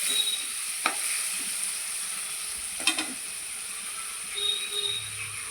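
Shrimp and white cumin sizzle steadily in hot oil, a continuous bright hiss with a couple of sharp spits and crackles along the way.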